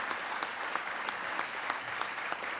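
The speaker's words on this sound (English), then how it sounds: "give a round of applause for them as well" An audience claps for student fellows at a legislative session, a dense, steady round of applause from a crowd, sustained and fairly close with no voices over it.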